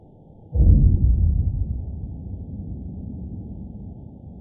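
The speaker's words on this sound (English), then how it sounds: "that sound was caught on a hydrophone and it is coming from an underwater oil rig" A hydrophone recording from an underwater oil rig catches a deep, muffled boom that swells suddenly and then rumbles on, slowly fading into a low murky wash of underwater noise.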